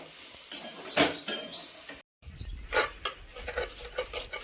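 Chillies being crushed and scraped in a pan: irregular metallic clinks and scrapes with a short dropout, close and fairly quiet, repeating in uneven bursts.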